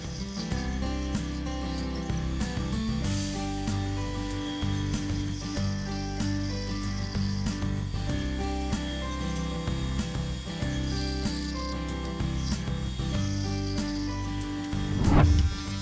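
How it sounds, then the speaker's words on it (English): A homemade 10-inch disc sander shapes a wooden headphone and phone stand, giving a continuous loud motor whine with a rough grinding rasp as the wood is pressed against the disc, steady and close. "Using my homemade 10-inch disc sander, I pulled the shape into the lines."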